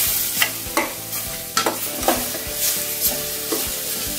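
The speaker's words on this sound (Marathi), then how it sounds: "व्यवस्थित परतून घेऊया." Dal khichdi masala with coriander powder and garam masala is stirred in a pan over medium heat, with a steady sizzle broken by irregular scraping and tapping spoon strokes, close up and moderately loud.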